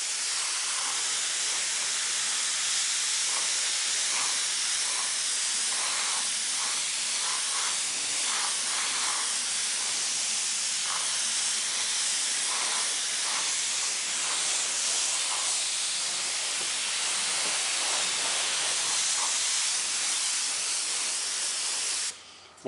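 Steady, loud hiss of a paint spray gun coating a guitar body, continuous for about twenty-two seconds with faint rhythmic ticks beneath, cutting off abruptly at the end.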